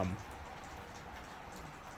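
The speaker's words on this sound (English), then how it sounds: "If you hear everything dripping in the background, it's because it's all melting." Melting snow drips steadily outdoors as a faint, continuous patter of drops, heard alone after a brief louder thump at the start.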